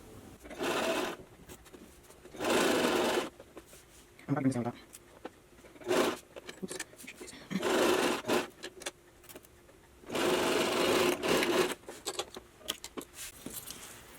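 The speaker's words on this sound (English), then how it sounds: "I'm going to sew just up until right here, a 1/2 inch." A sewing machine stitches a prom gown lining in short repeated runs of a few seconds each, starting and stopping with pauses between, up close and fairly loud.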